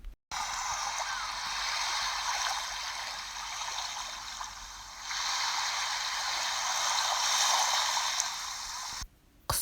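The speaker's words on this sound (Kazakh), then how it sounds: "судың аққан дауысын" Natural flowing water gurgles and trickles in a continuous, moderately close stream, briefly swelling midway, with no voices.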